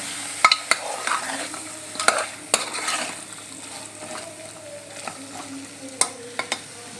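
A spoon scrapes and clinks around a sizzling pan of spicy pea and potato curry, with steady frying hiss beneath sharp, irregular taps against the metal.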